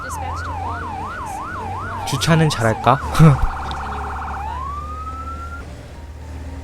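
An emergency vehicle siren in the video game Firefighting Simulator - The Squad wails in a steady rising-and-falling cycle, briefly broken by short blasts, then switches to a continuous tone before stopping; a person speaks Korean and laughs.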